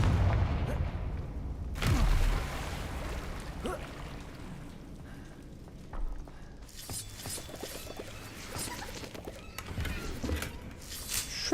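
The Confringo blasting spell is cast in a Harry Potter video game. A deep boom bursts out around two seconds, followed by crackling debris and a softer second blast, over quieter ambient game sounds.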